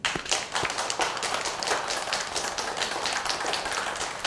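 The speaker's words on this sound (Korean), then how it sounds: "박수 한번 부탁합니다. 큰 박수." Dense, sustained applause from a congregation at a Buddha's Birthday Dharma service at a Korean Buddhist temple, a steady crackling wash of many hands clapping without pause.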